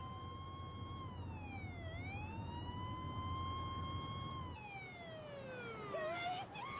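A wailing ambulance siren sweeps up and down in pitch, loud and steady, with traffic rumble underneath, its tone shifting near the end.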